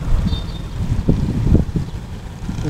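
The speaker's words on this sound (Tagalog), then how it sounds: "Problema lang mahangin." Low, steady wind rumble buffets the microphone throughout, with a few louder gusty bursts in the middle.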